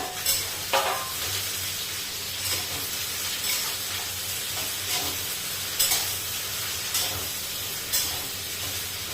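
Food roasts in a spoonful of oil in a pan while it is stirred, giving a steady hiss and sizzle with light, periodic scrapes and taps of the spoon. No voices are heard.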